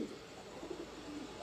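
Sialkoti pigeons on a rooftop give soft, low coos against a steady background hiss, faint and somewhat distant, with no talking.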